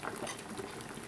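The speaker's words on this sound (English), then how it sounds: "When the pan's come up to the boil, turn it down and let it simmer" A pan of water with potatoes heats toward the boil, giving a steady, dense bubbling and hissing patter close by, with no talking.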